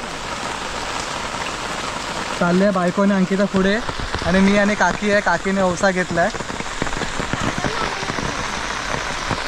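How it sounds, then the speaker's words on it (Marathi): Heavy rain falls steadily during a Gauri festival outing in Konkan, a dense constant hiss that continues under a voice speaking close by. "पावसाने एकदम घोटाळा केला, ऐन टायमाला पाऊस आलाय"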